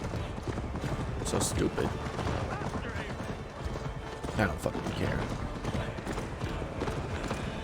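Galloping horse hooves in the Assassin's Creed Valhalla video game, a quick, steady clip-clop rhythm running throughout, mixed with someone talking and other game sounds.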